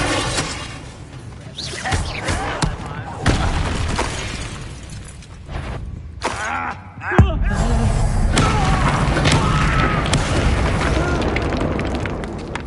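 Booming spell blasts from Bombarda and Confringo in Hogwarts Legacy, several loud bursts and crashes in a game fight, with a voice calling out spells.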